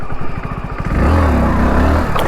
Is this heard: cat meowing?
no